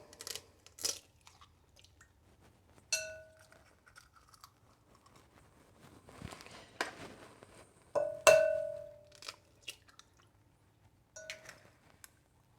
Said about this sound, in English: So let's crack 2 eggs.